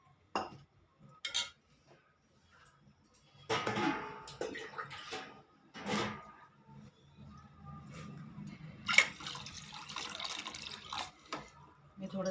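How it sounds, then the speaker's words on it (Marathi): Water poured from a glass into a pot for mango vermicelli kheer, short splashes and clinks of utensils at first, then a longer gurgling pour near the end, fairly quiet. "1 ग्लास पाणी ॲड करायचं आहे"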